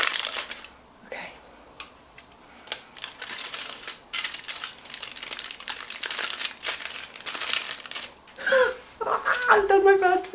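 Thin aluminium foil crinkling and rustling in quick bursts while being folded around pre-lightened hair during home highlighting, close up, with a voice speaking briefly partway through.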